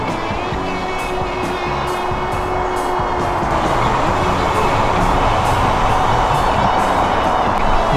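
Steady road traffic roars from a nearby dual carriageway beside a quarry in a wood, a loud continuous rushing drone with faint rhythmic ticking over it, unbroken throughout.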